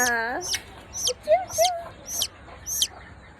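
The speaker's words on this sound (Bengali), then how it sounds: "মুরগির বাচ্চা" Baby chickens cheep and cluck in short repeated calls, close by, with brief pauses between them.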